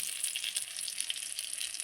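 Steady sizzle of dried lote fish paturi, wrapped in leaves and frying in oil in a covered pan, a constant bright crackle with no talking.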